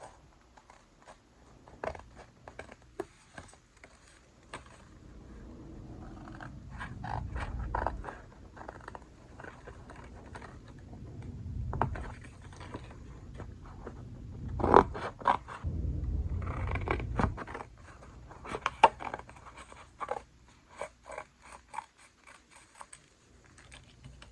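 Paper gift tags are roughly cut out by hand with scissors: quiet, close snipping and paper rustle in irregular bursts, soft and dry with no speech.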